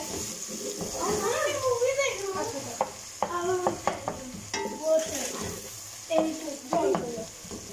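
Garlic and ginger fry in a pan with a steady, close sizzle, accompanied by scraping stirs and clinks, while someone talks over the cooking.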